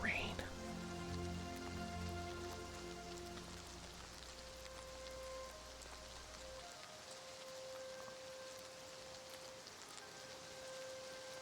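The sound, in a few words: rain falling in video game Oblivion Remaster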